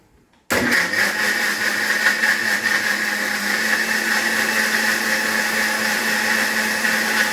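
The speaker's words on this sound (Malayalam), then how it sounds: "ഇനിയിത് നന്നായിട്ടൊന്ന് അടിച്ചെടുക്കുക" An electric blender grinds almonds, milk and berries into a breakfast shake, starting abruptly with a loud, steady whirring motor roar that runs unbroken to the end.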